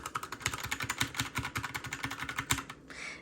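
Quick, rhythmic typing on a clicky Magegee mechanical keyboard, a close run of sharp key clicks about a dozen strokes a second, alone with no voices, ending with a short soft rustle.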